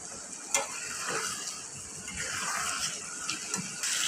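A spoon scrapes and stirs banana flower curry in a pan, with steady clattering scrapes and a soft sizzle running underneath, close by and fairly quiet.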